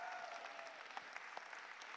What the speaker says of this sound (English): Everybody give Remington a big round of applause for helping me out.